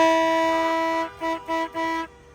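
A car horn blares in one long sustained honk, then three short toots in quick succession, loud and fairly close.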